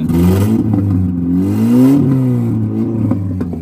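A modified car with a changed intake pipe revs loudly close by, its pitch rising and falling in uneven surges with a rough, stumbling misfire running through the engine note.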